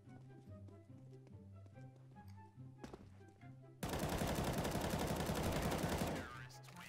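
Gunfire in the video game CS:GO: a sustained, loud burst of rapid automatic shots erupts midway and rolls on for a couple of seconds over a steady game music bed, with a sharper single crack just before it.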